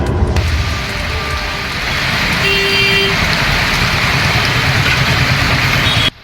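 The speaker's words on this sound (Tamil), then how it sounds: "எடப்பாடி மற்றும் சுற்று வட்டார பகுதிகளில் சூறை காற்றுடன் கனமழை கொட்டியது." Heavy rain driven by strong gusting wind over Edappadi and its surrounding areas, a loud, steady, dense roar that holds unbroken for several seconds with no voices.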